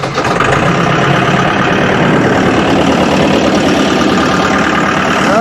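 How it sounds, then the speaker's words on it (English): Tractor engine running at a steady idle on a cold day at a ranch, a loud, continuous rumbling drone with no pauses and no talking over it. "Let's see if we can get tractor started."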